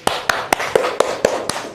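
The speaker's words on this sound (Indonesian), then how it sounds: "Oke, tepuk tangan." Students in a classroom clap together in unison: seven sharp, evenly spaced claps in a quick steady rhythm, close and loud.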